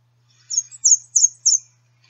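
An American redstart sings a short, high wheezy phrase of four or five quick, evenly spaced notes, close and clear against a silent background.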